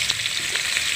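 Potatoes lightly salted and frying in oil for a cauliflower-and-potato curry give off a steady, dense sizzle with a few brighter crackles and pops, close and fairly loud, with no talking over it.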